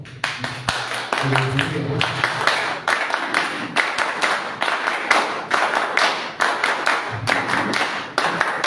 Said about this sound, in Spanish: nuestro compañero José Antonio Torres, a quien pedimos un fuerte aplauso.